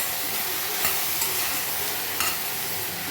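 Eggplant pieces being stirred into fried onions in a pan for an Andhra-style brinjal curry, a steady bright sizzle with a few soft spatula scrapes, close and continuous with no talking.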